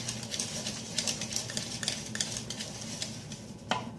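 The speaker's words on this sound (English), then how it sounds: "So, I'm going to continue mixing. Try to mix it really good." Coconut flour cake batter is mixed in a bowl, with quick repeated scraping and tapping of a utensil against the sides, moderately close and continuous.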